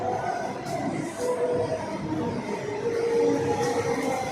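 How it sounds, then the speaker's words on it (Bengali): A metro train rolls into the station, a steady mid-loud rumble and whirr that swells slightly toward the end, with no talk over it. "হ্যাঁ, মেট্রো এসে গেছে"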